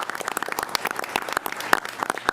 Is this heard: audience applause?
yes